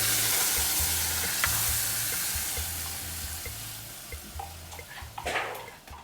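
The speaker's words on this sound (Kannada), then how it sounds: "ಇದನ್ನು ಚೆನ್ನಾಗಿ ಫ್ರೈ ಮಾಡ್ಕೊತೀನಿ ನಾನು ಗ್ರೇವಿನ" Onion-tomato paste gravy frying in a pan for paneer mutter gives a loud, steady close sizzle, with faint stirring scrapes and small pops growing toward the end, no voices.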